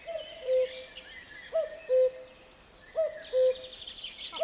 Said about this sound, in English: That cuckoo is very angry.